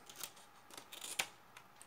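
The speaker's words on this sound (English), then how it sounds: "I'm cutting any extra which I don't need" Scissors snip paper planner dividers, a string of quiet, close, sharp cuts at an uneven pace, one a little louder than the others, with no talking.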